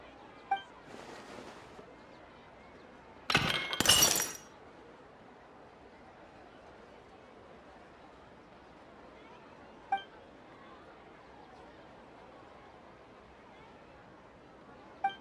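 Ceramic vase shattering in Genshin Impact, a sudden bright crash about a second long rising out of quiet game ambience, with a few soft clinks scattered before and after.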